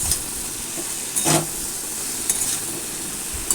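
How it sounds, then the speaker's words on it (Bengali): Mango pieces stir-fried with spices in a pan give a steady, close sizzle and hiss, with a few brief stirring scrapes over the constant frying noise and no voices. "আমটা দিয়েও আরও বেশ এক থেকে দেড় মিনিট আমি কষিয়ে নিলাম"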